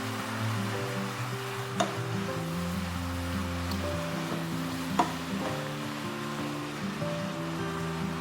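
Shrimp frying in a pan with wild garlic, giving a steady, soft sizzle with a few sharp clinks of a utensil against the pan.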